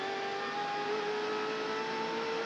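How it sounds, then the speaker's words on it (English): A NASCAR race car engine accelerating at Daytona International Speedway during the 1998 Bud Shootout, a steady loud high whine that holds level throughout with no voices over it. "He's accelerating, but Rusty Wallace came around the outside on the restart"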